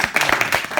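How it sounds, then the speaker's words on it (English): A short burst of audience clapping, several hands striking in quick, uneven succession, fairly close and moderately loud. "Clapping is free"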